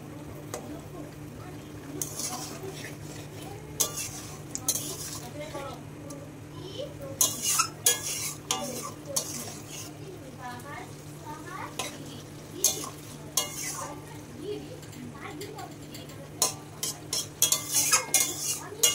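Salted water lily stems are stirred into a simmering rohu fish curry with potatoes. A spoon scrapes and knocks against the pot in irregular bursts over a soft sizzle, with a person talking now and then.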